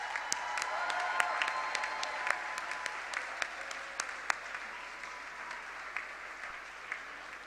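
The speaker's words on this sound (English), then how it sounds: "may I have a warm applause for Miss Anita Erskine" An audience at a cyber capacity building conference applauds steadily, a dense sustained wash of clapping with a few sharper individual claps standing out, fading slightly toward the end.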